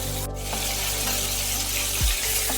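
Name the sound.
prawns frying in oil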